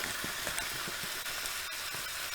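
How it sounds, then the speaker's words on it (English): Pork being stirred with flour in a frying pan for goulash, a soft steady sizzle with faint scraping stir strokes, fairly quiet and without voices. "I'm going to just stir to mix the pork"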